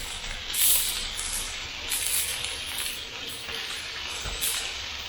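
Burger patty topped with pepper jack cheese sizzling on a grill, a steady close hiss with soft crackling pops that swells in brief bursts, with no voices over it.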